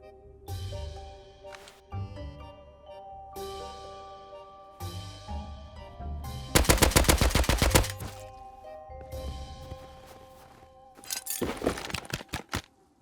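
Gunfire rings out in the survival game Rust on a snowy island: single heavy shots spaced apart, then two rapid automatic bursts of closely packed rounds, loud and near with no talking.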